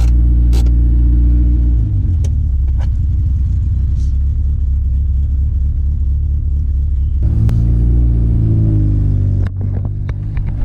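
Steady low engine rumble from a 2000 Honda Civic Si driving around the block, with the engine note shifting through gear changes, a few brief clicks and knocks on top.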